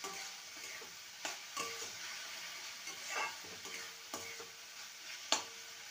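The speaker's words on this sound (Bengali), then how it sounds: "এবার ভেজে রাখা আলুর টুকরোগুলো দিয়ে দেবো, দিয়ে ভালো করে নেড়ে নেব" Fried potato pieces are stirred into sizzling masala in a pan, a continuous soft frying hiss broken by repeated scraping strokes and light utensil clicks, close and alone.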